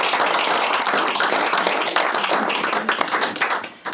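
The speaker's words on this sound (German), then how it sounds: "Kleiner Applaus, das sind die Bettbeisitzer." A small audience applauding at a talk event, a dense crackle of many hands clapping steadily for a few seconds before thinning out and stopping.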